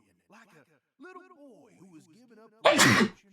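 A video game character in Deadly Premonition 2 lets out a single loud, abrupt sneeze right after a stretch of spoken dialogue.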